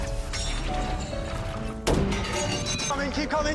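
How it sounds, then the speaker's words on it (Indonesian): A stack of iron pipes crashing onto a car in an action film scene: a single sudden loud smash partway through, set within busy film sound, with a narrator talking over it. "Thor pun segera beraksi menjatuhkan tumpukan pipa besi ke arah mobil lawan"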